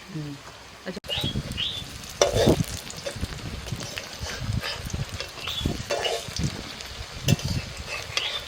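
Lentil or batter fritters (bora) deep-frying in a kadai of oil until deep red, giving a dense, continuous bubbling sizzle with scattered scrapes of a spatula, close up, while birds chirp faintly in the background.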